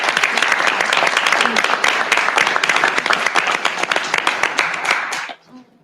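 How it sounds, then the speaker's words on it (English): A symposium audience gives a final round of applause to the last speaker, loud dense clapping that holds steady, thins into scattered claps and then cuts off near the end. "Let's give a last round of applause to Dr."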